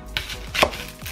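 Carrots sliced with a kitchen knife during Japanese nikujaga beef stew prep, a few crisp chops striking the cutting board in quick succession, close and clear with no talk.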